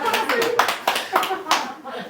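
Hands clapping in a church gathering on Yeonhwado island, several sharp claps in a short burst amid overlapping voices and a child's chatter, close and moderately loud.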